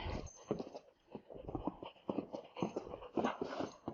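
A herding dog tugs on a tug toy during a no-sheep herding training workshop, giving off short whimpering, huffing and panting bursts at close range in an uneven, energetic rhythm.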